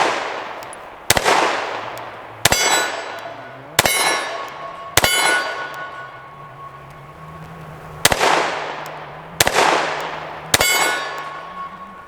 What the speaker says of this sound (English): Let's go all the way down there to the Scoops TB plate. Let's see if we can hit our little hostage popper.